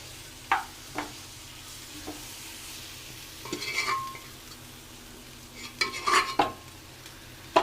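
Beef is stirred and roasted in a pan for a Kerala-style beef ularthiyathu, heard as a soft background sizzle broken by a few sharp spoon scrapes and clinks against the pan, close by with no talking.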